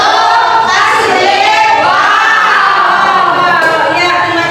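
A classroom of children chant together in a rhythmic call-and-response, loud and close, with voices rising and falling over the whole stretch; separate claps are hard to pick out.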